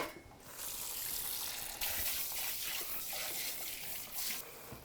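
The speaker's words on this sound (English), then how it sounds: "Now I'm gonna get some warm water in here." Warm water running from a kitchen tap into a bowl, a soft steady rush with small splashy surges, faint and close in a quiet kitchen.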